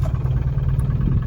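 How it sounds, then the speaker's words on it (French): A 2017 Microcar M.go Highland X microcar with a Progress engine runs at a steady, loud, low idle, its rough throbbing rumble continuous and close. "nous allons procéder au démarrage du véhicule et je vais vous montrer donc le moteur"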